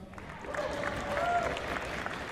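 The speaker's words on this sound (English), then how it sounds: "One more round of applause for our resident composer." Audience clapping at a university jazz festival concert, a moderate wash of applause swelling slightly while a voice speaks over it.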